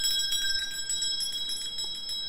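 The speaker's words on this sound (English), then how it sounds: "Stop the bell." A bell rings continuously in bright, shimmering strokes, sustained and fairly close for a couple of seconds with no one speaking.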